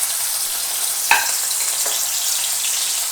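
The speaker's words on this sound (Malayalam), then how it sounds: "അതിലേക്ക് ആദ്യം നമ്മൾ ഇഞ്ചിയും വെളുത്തുള്ളിയും കൂടെ ചെറുതായിട്ട് അരിഞ്ഞിട്ടു." Finely chopped ginger and garlic fry in a few tablespoons of oil in a pan for a chicken spring roll filling, giving a steady, loud sizzle close by, with a couple of faint stirring scrapes and no talking.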